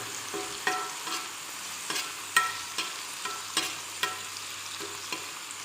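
Fish pieces fry in a pan with a soft, steady sizzle, while a utensil stirs and knocks against the pan at irregular intervals, giving several distinct scraping clicks close by, with no voices.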